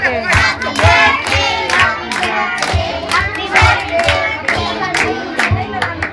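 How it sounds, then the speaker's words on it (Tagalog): A crowd claps along to a birthday song at a family party with elderly relatives, rhythmic hand claps mixed with loud group singing close by. "Okay, isa pa, may kasama palakpak naman!"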